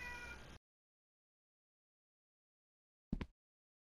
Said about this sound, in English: I feel like it just ruins the video when he's just meowing the hell out of himself.